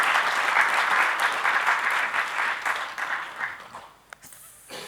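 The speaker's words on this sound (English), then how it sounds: "can we have another rounding applause for Vikram's iconic works?" Audience applause at a Kitaab literary event in New Delhi honouring an author, a steady dense clapping that fills the room for about four seconds before thinning and fading out.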